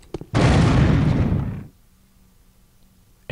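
A triggered explosion in an Unreal Tournament 99 game map, one loud burst that roars for over a second and then trails off quickly into near silence.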